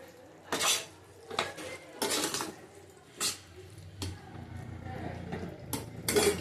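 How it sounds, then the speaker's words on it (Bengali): A spoon scrapes and clinks against a pan while stirring pumpkin and potato curry, a handful of loud, sharp metallic strokes spread unevenly over a low background. "হালকা করে একটু নাড়িয়ে দেবো।"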